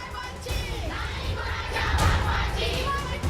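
Shiv Sena supporters celebrate in Mumbai after a High Court ruling, a dense, loud crowd shouting and cheering together in continuous rising waves.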